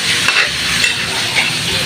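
A chicken dish cooking in a pan with a loud, close sizzle, stirred throughout with soft scraping strokes.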